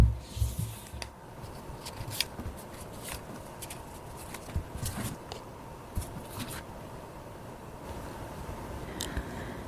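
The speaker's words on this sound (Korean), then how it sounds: "카드로 한번 뽑아보도록 할게요" Tarot cards handled at a reading table, with soft riffling shuffles and scattered crisp slaps and flicks as cards are drawn, close and quiet, spread over about ten seconds with no talking.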